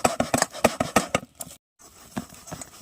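Seeds of palm fruit are grated to pull out the pulp, a rapid run of sharp scraping strokes up close, then a brief silence and a few softer scrapes, with no voices.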